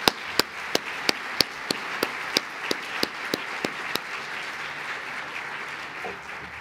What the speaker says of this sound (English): Please join me in giving them a thunderous round of applause.